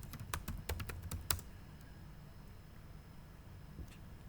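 Quick burst of computer keyboard typing while a command is entered, a run of crisp clicks for about a second and a half, then near silence with one faint tap later.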